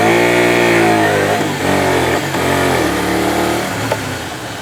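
A motorcycle engine revs loud and close, its pitch climbing and then sliding down as the bike slows under hard front-brake-only braking, with no talk.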